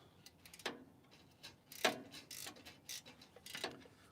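A ratchet wrench tightens bolts under a workbench in a shop, giving short bursts of rapid clicking at close range, spaced irregularly with brief pauses between strokes.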